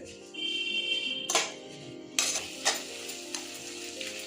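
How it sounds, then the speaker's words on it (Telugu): Mint leaves and tomatoes frying in a pan give a steady close sizzle, broken by a few louder stirring scrapes. "పుదీనాకు కూడా మగ్గుతున్నాయండి, ఇంకొక 2 నిమిషాలు మగ్గితే సరిపోతుంది"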